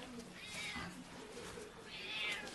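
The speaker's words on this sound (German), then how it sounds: "Jetzt haben wir auch unsere Katze Aşkım dabei" A sick cat meows at the veterinarian, two drawn-out plaintive cries close by, one near the start and a louder one at the end, over quiet room noise.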